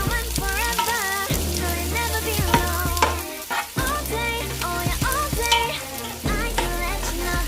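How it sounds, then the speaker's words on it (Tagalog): Onion with cabbage and potatoes sautéing in a pan, a steady close sizzle with repeated stirring scrapes throughout and music-like tonal lines running above it. "Ibisa lang natin siya mga kabisdak hanggang sa maluto yung sibuyas natin."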